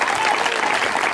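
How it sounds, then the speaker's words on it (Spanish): A church congregation claps loudly and continuously, with dense, steady applause filling the room from start to finish. "Dele fuerte ese aplauso, iglesia del Señor."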